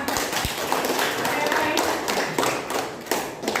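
A small class of students claps briefly during a lesson, a few loose, uneven hand claps close by rather than a full ovation.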